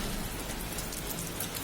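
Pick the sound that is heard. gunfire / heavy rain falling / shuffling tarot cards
heavy rain falling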